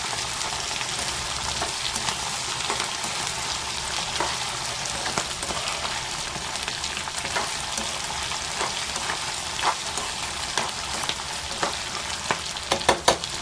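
Green chillies and tempering ingredients frying in a pan for pulihora, a steady dense sizzle with scattered spatters and crackles growing sharper toward the end, alone with no voices.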